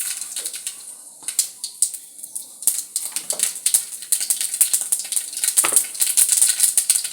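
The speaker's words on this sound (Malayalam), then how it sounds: "കടുക് പൊട്ടിക്കാം" Mustard seeds pop in hot oil in a home kitchen pan: rapid, irregular sharp crackles and ticks, close and fairly loud, running throughout.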